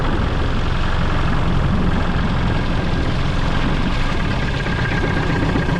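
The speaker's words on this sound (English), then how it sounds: "Engine doesn't run right." A 1998 Mariner Bigfoot 25hp four-stroke outboard engine runs steadily up close with a rough, uneven low rumble from a faulty ignition coil, no clear changes in pace.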